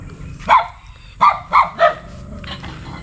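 Dogs on a farm in the Philippine countryside bark four times in quick loud bursts close by, followed by a fainter yip, over a quiet outdoor background.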